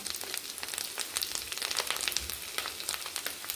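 Onion frying with garlic paste and ginger paste in a pan, a steady dense sizzle with crackling pops that runs throughout, close and moderately loud with no talking.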